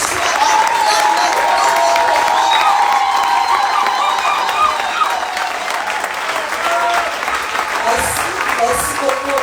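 A youth camp seminar audience breaks into sustained applause and cheering, a dense, steady wash of many hands clapping with shouts and whoops rising above it, loud and continuous throughout.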